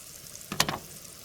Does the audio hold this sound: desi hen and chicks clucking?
no